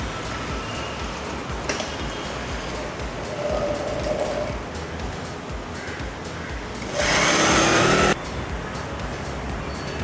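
A sewing machine stitches the side seam of a blouse, a continuous close mechanical whir that rises in bursts, with a louder rush near the end and no talking.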